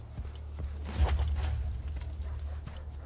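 Horse hooves clip-clop steadily in Assassin's Creed Brotherhood, with a rhythmic run of hoofbeats over a low rumble that swells briefly near the middle.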